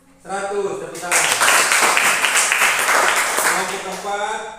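Many people clap in a classroom group session, a loud, steady burst of applause rising quickly after a brief voice and continuing for several seconds under intermittent speech at the end.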